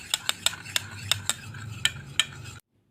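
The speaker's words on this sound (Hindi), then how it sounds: "इसको अच्छे से मिक्स कर लेंगे।" A spoon stirs an aloe vera gel mixture in a container, giving a quick series of light metallic clinks and scrapes in an uneven rhythm, close and clear, before stopping abruptly.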